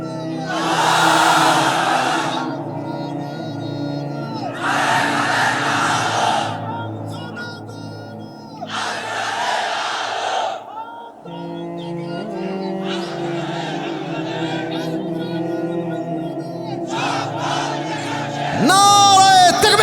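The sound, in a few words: crowd chanting a religious slogan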